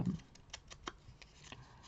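Scissors snip through scraps of paper while a simple card is cut out, giving a series of faint, close, dry clicks spaced irregularly across the moment, with no talking.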